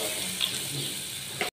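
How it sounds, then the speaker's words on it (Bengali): Water pours steadily into a pan of potato and tomato curry, a brief close splashing gush that cuts off sharply at the end. "এখন পানি দিয়ে দেবো ঝোলের জন্য"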